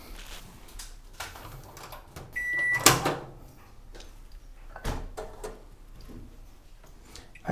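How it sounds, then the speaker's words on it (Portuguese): A microwave oven heats gelatin for a peach bavarois, with a clear electronic beep and a sharp click in the middle over low background noise and a few soft knocks. "Vamos levar ao micro-ondas agora por 10,"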